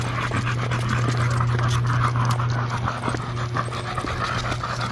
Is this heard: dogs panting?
yes